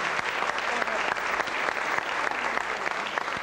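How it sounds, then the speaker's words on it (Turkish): Studio audience at a 1995 Turkish television variety show breaks into loud, steady applause, continuous and close throughout the short stretch with no clear talk over it. "Ve Uysuz için kuvvetli bir alkış rica ediyorum."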